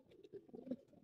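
A male pigeon cooing softly, low throaty burbling notes in short pulses, quiet and close.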